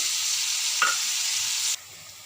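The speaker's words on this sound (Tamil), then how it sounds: "ஆனியன் நல்லா வதங்கிடுச்சுங்க" Onions sautéing in hot oil with salt for prawn thokku, a steady broad sizzle with a brief stir near the middle, then the frying cuts off abruptly and only faint background remains.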